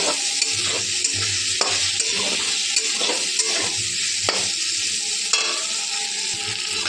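Yard-long beans frying in a pan, the soft sizzle overlaid by rhythmic scrapes and knocks of a stirring spatula every second or so, close up, with no one speaking.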